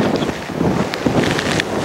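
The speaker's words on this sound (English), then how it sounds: "The wind is taking me down." Strong wind from a Chicago blizzard roars continuously into the microphone, a dense, buffeting rush with gusty swells and no talk over it.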